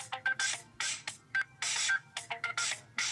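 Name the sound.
Sony Xperia Z stock ringtone Organ Dub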